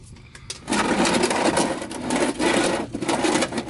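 An oil drain nut on a vehicle's oil pan is unscrewed by hand, giving a steady close scraping, rubbing rasp of metal threads that runs almost continuously after a brief quiet start.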